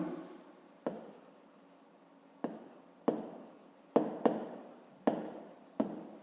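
Pen or pencil writing by hand on paper while working a grade 5 math exercise, a steady soft scratching broken by several sharp taps as strokes begin, close and quiet with no talking.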